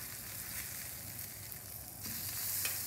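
Half-pound bacon burgers sizzle steadily on a Blackstone griddle just after being flipped, a close, continuous hiss with no one talking, swelling a little louder near the end.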